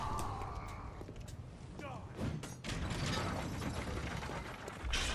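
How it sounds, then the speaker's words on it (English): A lever mechanism being pulled in the video game Bloodborne grinds and clanks with ratcheting creaks over a steady noisy background, a dense mechanical clatter running throughout. "And also pull levers here."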